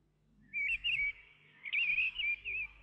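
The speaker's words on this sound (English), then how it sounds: "The birds dropped a quilt of leaves down onto Hansel and Gretel" Small songbirds chirp in a fairy-tale forest, two bursts of bright, warbling tweets with a short pause between them, fairly faint and heard alone without any talking.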